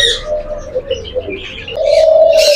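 Pigeons coo at a Sunday bird market in Multan, where breeder pairs are kept. Close, throaty calls repeat over low background bustle, swelling into a longer, louder coo near the end.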